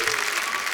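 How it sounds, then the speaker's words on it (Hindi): Studio audience applause on a Hindi comedy talk show, a brief dense wash of many hands clapping at once, loud and sustained with no clear gaps. "जोरदार तालियां हमारे दोस्तों के लिए।"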